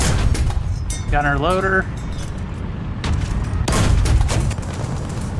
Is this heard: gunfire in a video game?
yes